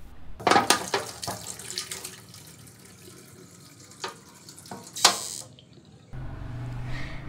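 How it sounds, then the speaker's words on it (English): A hot tin can rinsed under a running tap in a sink, water splashing and clattering against metal in uneven bursts, with a steadier faucet stream toward the end. "you can keep the hot can under running water in a sink"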